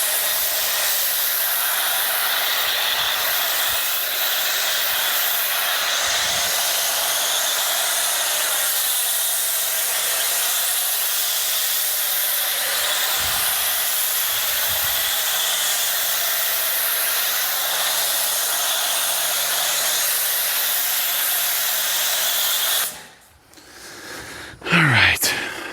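Foam sprayer hisses continuously and loudly while an E36 M3 is washed outdoors at night, then cuts off near the end.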